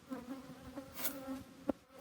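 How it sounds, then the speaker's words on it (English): Worker honeybees buzzing inside an opened hive, a close, steady drone with individual bees flitting past and a sharper buzz near the end, no voices. "After a total of 21 days from the time the egg is laid, a fully developed worker bee will emerge."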